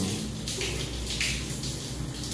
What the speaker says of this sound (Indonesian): Nah ini masih netes-netes sedikit-sedikit